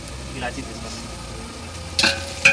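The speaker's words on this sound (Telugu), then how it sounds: "ఇది ఆనియన్స్ గోల్డెన్ బ్రౌన్గా వచ్చింది ఇంకా కొద్దిగా ఫ్రై అవ్వాలి" Onions sizzle in hot oil with cloves, cinnamon and cardamom for biryani, a steady low crackle close by. Two sharp clinks of a spoon against the pan come near the end, and a voice murmurs faintly underneath.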